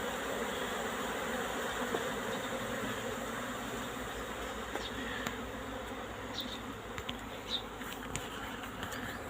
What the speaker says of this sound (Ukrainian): Таке відчуття, що всі бджоли вилетіли на вулицю.